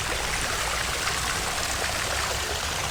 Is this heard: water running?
yes